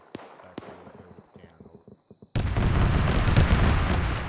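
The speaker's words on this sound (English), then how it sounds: "An RPG just left that hilltop." RPG launch blast in the military shooter ArmA 3: sharp distant reports and rhythmic rattling, then a sudden loud boom that rolls into a sustained rumbling roar.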